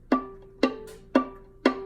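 Four plucked violin-family string notes in weak pizzicato, evenly spaced, each a short dull pop with a quick decay, fairly quiet and close.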